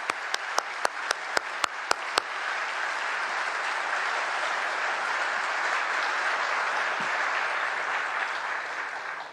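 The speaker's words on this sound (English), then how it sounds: "Would you please give another round of applause for both the storyteller panels tonight?" Several sharp, evenly spaced claps open at an evening event honoring military service. A broad, sustained round of applause from the audience then takes over and carries on without letting up.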